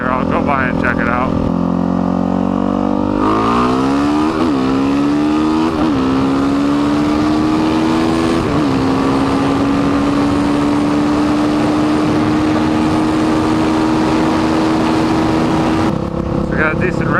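A Suzuki DRZ462 motorcycle fitted with an MRD exhaust revs hard through several quick upshifts, each rising whine dropping before settling into a sustained high-speed drone with heavy wind rush, loud and close throughout.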